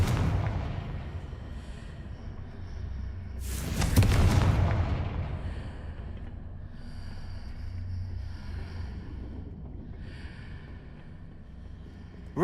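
The Confringo explosion spell in the video game Hogwarts Legacy bursts in one heavy blast midway, over a constant low rumble, with fainter crackles and whooshes trailing after it.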